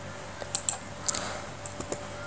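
Keys tapped on a computer keyboard while entering an AutoCAD command, several quick light clicks spread irregularly over a couple of seconds, close and crisp against a quiet room.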